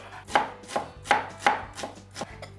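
A knife chops bacon into tiny cubes on a cutting board, about seven crisp knocks in a steady, slightly uneven rhythm, close and without talk.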